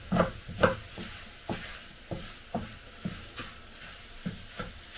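Scrambled egg omelette cooking in a pan, with soft sizzling under a series of spaced scraping and stirring knocks, close and alone without any talking.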